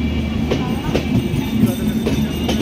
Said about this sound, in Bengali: এটা হচ্ছে 716 নং ডাউন রাজশাহী খুলনার মধ্যে চলাচলকারী আন্তনগর কপোতাক্ষ এক্সপ্রেস আলমডাঙ্গা স্টপেজ দিয়ে ছেড়ে যাচ্ছে